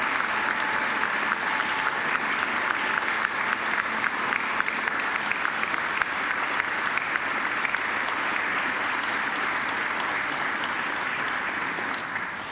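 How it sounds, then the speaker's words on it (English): Graduates at a Macquarie University graduation ceremony applaud their families, a loud, even wall of clapping from a large crowd that holds steady for the whole stretch and tapers only slightly at the end. "now I invite you to give them a mighty round of applause"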